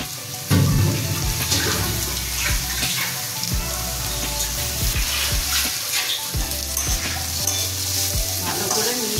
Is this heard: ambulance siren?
no